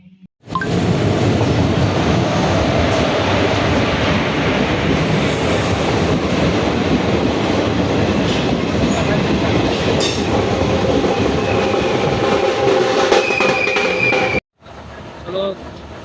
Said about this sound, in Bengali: এমনিতেও ট্রেনটা আমাদের আধা ঘন্টা লেট করে এসেছে